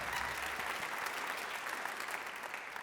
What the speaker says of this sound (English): You've already clapped for him